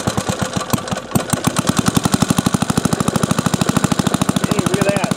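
A small old engine coughs and sputters, then catches and settles into a fast, steady put-put rhythm, loud and close.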